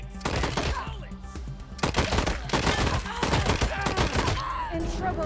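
Rapid bursts of gunfire from the Wasteland 3 video game rattle loudly and continuously, overlapping shots and impacts with game sound effects mixed in.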